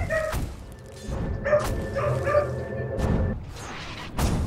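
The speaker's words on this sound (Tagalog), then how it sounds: "sino yung kumakahol dyan?" A dog barks and yips in short repeated bursts at close range, mixed with background noise during a Filipino DotA online gaming session.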